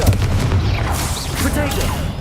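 A Confringo fire spell blast in Hogwarts Legacy: a loud, dense booming burst that rolls on for a couple of seconds, with voices heard over it.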